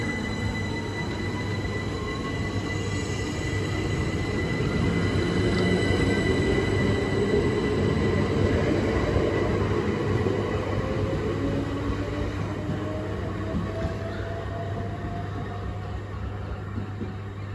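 A train passing through a London station platform, a loud sustained rumble of wheels on rails with faint high squeals rising and falling over about seventeen seconds, close and continuous without speech.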